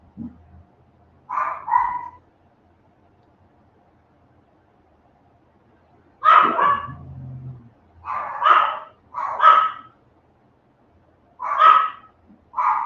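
Several dogs bark excitedly indoors, short bursts of yapping separated by pauses, then a faster run of barks near the end, fairly loud and close.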